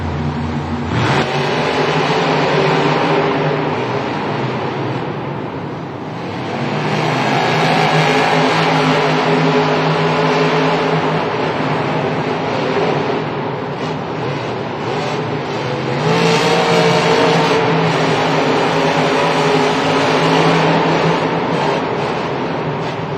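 Monster trucks race side by side in a Miami stadium at Monster Jam, huge engines roaring loudly in long surging waves that dip and build again, with crowd and arena din beneath.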